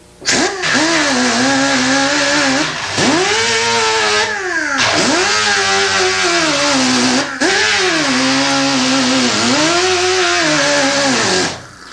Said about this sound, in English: You notice you'll have to angle the grinder when you get toward the center.